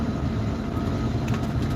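Steady rumbling roar of a passing freight train hauling refrigerated containers at about 55 mph, continuous and loud with no distinct clacks or voices.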